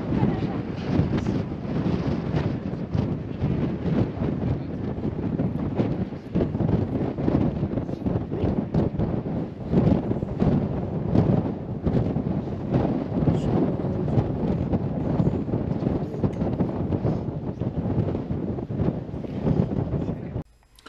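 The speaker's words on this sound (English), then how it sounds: "there was quite the wind happening, as you can hear from the previous clip" Strong wind buffets the microphone at a chilly mountain summit on Maui before sunrise, a loud, continuous low roar with gusty surges and rumbling that fills the whole stretch.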